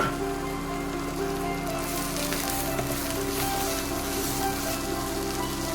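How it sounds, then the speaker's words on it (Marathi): Ginger, tomato, coriander and dry spices sautéing in a pan for a Malvani crab masala, a loud, continuous crackling sizzle like rain on a hard surface that holds steady throughout with no talk. "आलं टमॅटो आणि कोथिंबीर आणि आपले सगळे सुके मसाले पण आता घालून घे आणि सगळं छान परतून घे"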